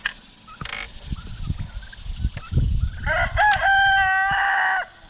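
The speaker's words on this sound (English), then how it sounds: "That's Ruby the rooster doing all that crowing." A rooster crows loudly and close by, a long ringing call rising and holding, after some scuffling and clucking from the chicken flock.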